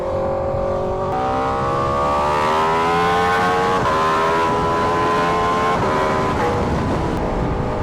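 XTrenta motorcycle exhaust roaring loud and close with rising, shifting engine pitch through the gears and a few sharp pops, steady throughout with no talk.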